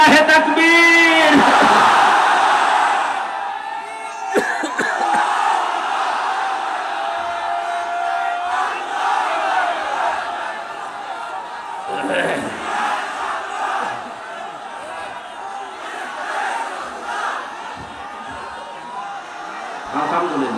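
A large crowd at an open-air religious gathering in Pabna, Bangladesh, roars back in unison to a takbir call, a loud swelling shout that trails into sustained crowd noise and scattered voices.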